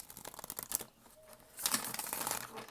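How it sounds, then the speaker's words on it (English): A deck of tarot cards being shuffled by hand, with quick papery riffles and crinkly flutters in bursts, close and fairly quiet, pausing midway before a denser run of card rustling. "I'm just shuffling the tarot deck."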